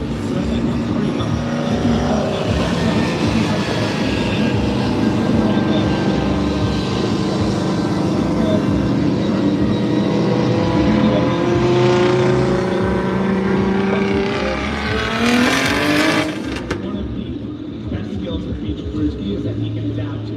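A drift car at Formula Drift Utah ProSpec warm up accelerating hard on throttle, its engine roaring loud and sustained, rising in pitch before cutting off near the end.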